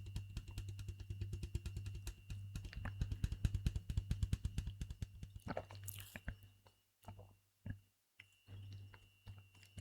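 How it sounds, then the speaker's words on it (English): Close, rapid wet mouth clicks and smacks in a fast rhythm, then slowing to sparse sticky pops with quiet gaps and a low hum underneath. "I hope the mouth sounds are relaxing."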